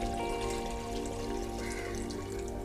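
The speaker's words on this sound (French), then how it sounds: "nous versons le contenu de 5 verres d'eau dans le pot" Water poured steadily from cups into a cooking pot for dried ginger coffee, a continuous close splashing stream, fairly loud, heard alone.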